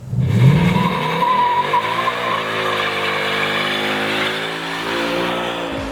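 The 5-liter V8 of a 2018 Ford Mustang GT revs hard and loud and close by, with a brief tire squeal, then holds a steady high drone.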